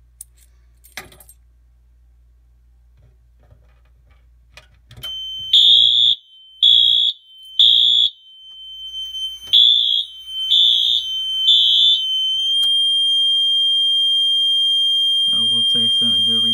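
A Wheelock AS fire alarm system sounds during a home test, giving a loud, shrill tone in six evenly spaced pulses followed by a steady continuous tone, after some faint handling noises and a short stretch of near silence.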